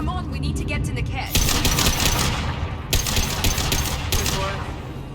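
An upgraded rifle fires in bursts in Mass Effect 2, rapid crackling volleys that start and stop several times under game ambience, with speech underneath.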